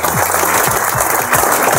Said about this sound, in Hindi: आप एक बार उनके लिए जोरदार तालियां बजा सकते हैं